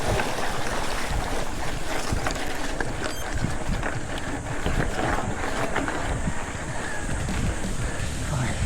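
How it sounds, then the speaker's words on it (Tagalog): Steady rushing water and wind-buffeted mic noise as a bicycle crosses a river during a race, with a continuous churning wash throughout and no talking. "Ito na, no, yung unang river crossing natin na pinasok natin."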